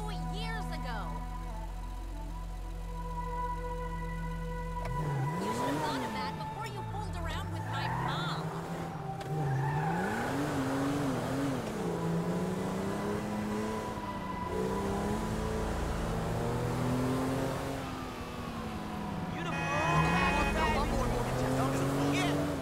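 A car in a video game cruises around a city block, its engine droning and swinging up and down in pitch as it speeds up and slows, with people talking over it throughout.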